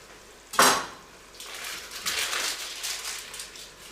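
Butter and venison liver being stirred in a pan for pâté, a sharp utensil clank on the pan followed by a soft, ongoing scraping and sizzling.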